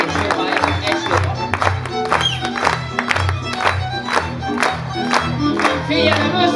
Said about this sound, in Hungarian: a zúgó taps után a zene ütemére egy vas tapsot is kérek szépen a táncosok